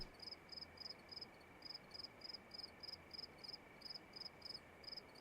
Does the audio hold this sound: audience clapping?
no